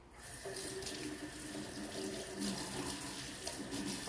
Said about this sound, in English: you want to put it in a colander, and you want to run some water over it.